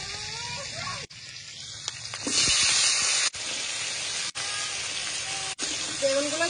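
Brinjal pieces stirred into hot oil with black cumin and green chillies sizzle steadily, swelling louder midway, broken by brief clatters and a few short gaps.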